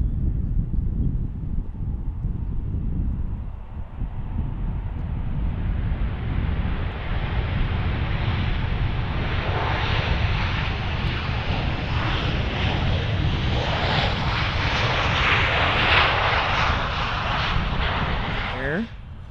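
Jet airliner taking off at Cincinnati/Northern Kentucky airport (CVG), a loud, steady engine roar building through the whole stretch with heavy wind buffeting on the microphone, near and continuous.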